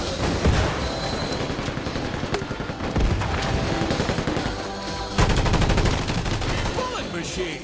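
Machine gun fire in the arena shooter Combat Champions, a dense, loud and continuous rattle of rapid shots with booming impacts, nearly unbroken throughout.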